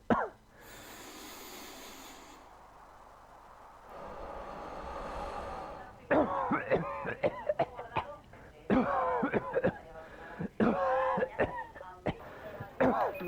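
A sick patient coughs in harsh bursts amid rough breathing and throat noises, close and uneven, with speech around the fits.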